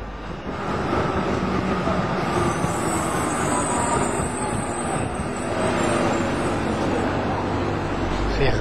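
A Milan tram runs straight along its rails past Abbiategrasso Chiesa Rossa, giving a steady, loud rumbling roll with grinding wheel noise and a high squeal along the track throughout.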